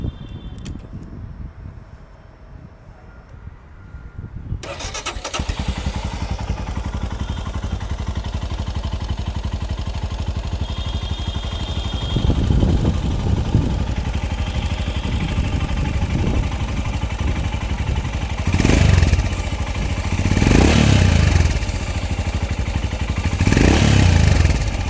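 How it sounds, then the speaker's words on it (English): A Royal Enfield Himalayan 440 motorcycle with a Power Rage exhaust starts up and idles with a throaty exhaust rumble, then revs sharply three times near the end, loud and close. "Let me make you listen to its exhaust note."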